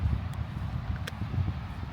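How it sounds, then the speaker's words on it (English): Wind blows at the seaside in Hornsea, a steady low roar buffeting an open microphone, with a couple of faint brief clicks in the background. "It's very windy though"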